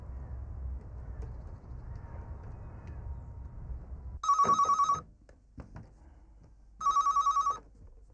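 A telephone ringing in two loud bursts of rapid electronic trilling, separated by a pause, in a quiet room with faint background murmur before the first ring.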